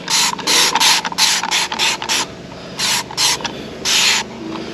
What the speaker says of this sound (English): We'll go ahead and spray some in there.